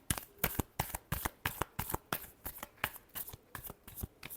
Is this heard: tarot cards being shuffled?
yes